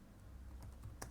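Quiet clicks of a computer keyboard being typed on, a few faint irregular keystrokes over low background hum.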